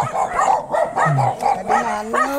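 A group of dogs barks repeatedly close by, sharp yaps mixed with whiny, rising whimpers in an uneven, excited rhythm.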